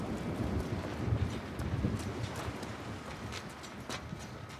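Steady wind blows in The Last of Us Part II, a soft continuous rushing whoosh with faint scattered knocks and creaks beneath it, no one talking.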